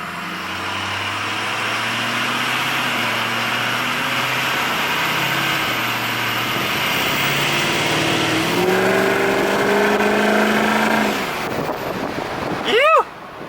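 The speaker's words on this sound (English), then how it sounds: "it makes awesome sounds, and it makes turbo noises and flutter sounds" A truck engine idles and revs nearby, rising in pitch, then a quick fluttering chirp of the turbo as the throttle lets off.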